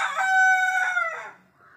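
A rooster gives a single clear crow, close and loud, rising and then trailing off into quiet.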